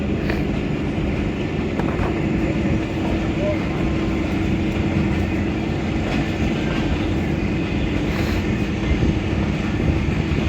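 Jaffar Express hauled by locomotive 6410 rolls along at speed on a foggy winter run, a steady loud rumble with faint rail clatter heard from on board.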